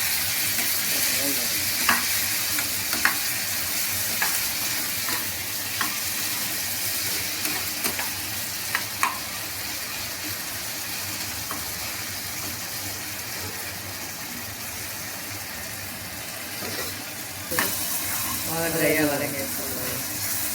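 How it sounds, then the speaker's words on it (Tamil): Tomatoes and vegetables sautéing in a pan for brinjal kuzhambu: constant close sizzle with occasional spoon scrapes and knocks, and a voice talking briefly near the end. "இதெல்லாம் நல்லா ட்ரையாக வதக்கிட்டு தக்காளி, அந்த காயை நல்லா வதக்கிட்டு"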